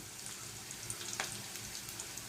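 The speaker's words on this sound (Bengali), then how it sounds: "ফোড়নের জন্য পেঁয়াজ আর রসুন দিয়ে দিলাম তেলের মধ্যে" Chopped onion and garlic sizzle in hot oil for a dal tempering, a faint, steady frying hiss with a few small pops throughout.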